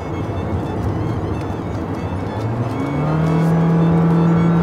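A compact car's engine drones inside the cabin while driving, a steady low groaning hum that swells slightly louder and deeper toward the end, with no talking.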